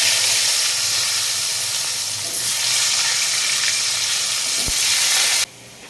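Potatoes fry in hot oil in a wok, giving a steady, loud, bright sizzle and hiss throughout that drops off abruptly near the end.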